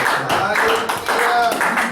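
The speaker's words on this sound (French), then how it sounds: "Acclamation pour le Seigneur" A church congregation claps in acclamation for the Lord, in close, strong bursts of clapping mixed with voices.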